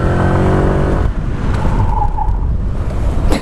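A Honda Vario scooter with a disc brake hums loudly, then its tire breaks into a rough, hissing skid under hard braking for the last couple of seconds, close up and with no talking.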